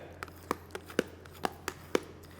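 A knife slicing through set jelly on a board, about eight light, evenly spaced cuts, close and quiet.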